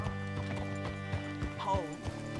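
Hooves of a horse in Red Dead Redemption 2 clip-clop in a slow, even gait, with a short whinny near the middle, close and clear over a faint low hum.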